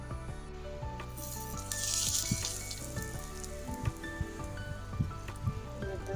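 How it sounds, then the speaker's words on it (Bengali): Curry leaves and mustard seeds tempering in hot oil for dhokla, a steady crackling sizzle with scattered sharp pops and spits, close and fairly loud, with no talk. "কারি পাতা আর সর্ষে ফোড়ন দেবো, দিয়ে একটু ছোঁক দেবো"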